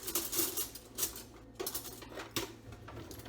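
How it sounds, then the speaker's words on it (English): Bacon fat scraped into a frying pan with metal utensils, making repeated clinking and scraping strokes close by, alone and without talk. "I do want to scrape off that fat"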